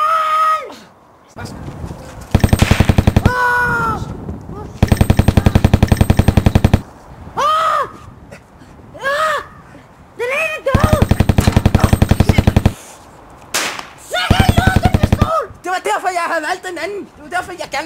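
Bursts of rapid automatic-sounding gunfire in a Danish comedy film, loud and repeated in several long volleys, alternating with shouted dialogue between them.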